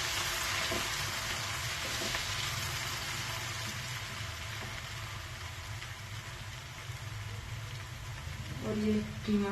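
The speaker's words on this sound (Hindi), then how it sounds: "प्याज को गोल्डन ब्राउन होने तक फ्राई करेंगे।" Steady, bright sizzle of onions frying in a pan for Hazaragi ashak, with ginger garlic paste going in, a continuous hiss with faint stirring scrapes and a low background hum.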